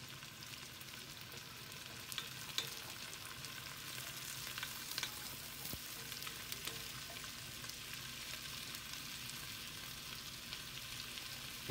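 Onions, garlic and carrots fry in a pan, giving a steady, even crackling sizzle that runs the whole time with only a few small pops, no voices.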